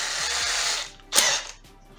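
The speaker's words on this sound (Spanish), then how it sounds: "tomamos nuestra broca" A power drill boring a pilot hole into MDF makes a loud, steady whir for about a second, stops briefly, then gives one short, sharp burst before falling quiet.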